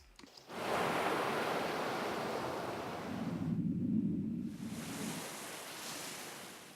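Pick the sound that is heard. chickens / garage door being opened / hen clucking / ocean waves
ocean waves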